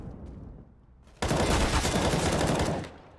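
A Counter-Strike rifle burst fires during a pro match, sudden and loud as rapid automatic shots pour out for about a second and a half before cutting off.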